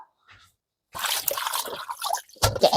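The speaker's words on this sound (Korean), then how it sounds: "양배추 2분의 1통 세척해 올게요" Half a cabbage is rinsed in water for pickling: close, wet sloshing and dripping splashes start after a short quiet pause and continue with irregular bursts.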